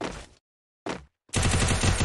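Sharp bursts of game gunfire, a short volley, then a pause and another burst, followed by dense, rapid automatic fire that is loud and close.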